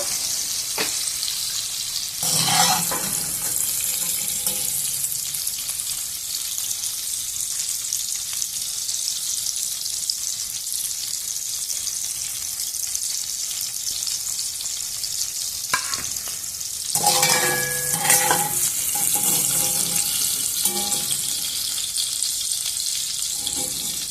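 Cauliflower fries in oil over high heat with a steady, loud sizzle throughout, broken by two bursts of stirring and scraping in the pan, no voices.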